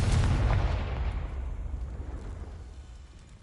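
A Confringo fire spell from Hogwarts Legacy on PS5 blasts with a heavy booming burst at the start, then a long rumbling decay that slowly fades away.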